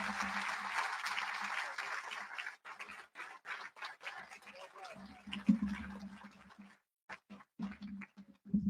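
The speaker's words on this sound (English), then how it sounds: "How about one more round of applause for Mr. Gold?" Audience applause at a graduation ceremony for a school's class of 2021, a dense crowd clapping for a few seconds before breaking into scattered claps mixed with speech and a low voice over a hall sound system.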